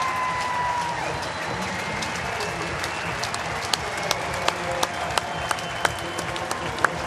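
Stadium crowd and Dodgers players applauding at Oracle Park during an MLB game, a dense steady wash of clapping with sharp individual claps popping out nearer toward the end, over a constant roar.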